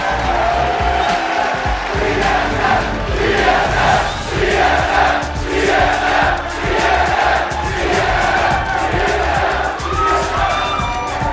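A large crowd roars and cheers continuously at an esports playoff semifinal at PAX, a loud, dense wash of voices filling an indoor arena.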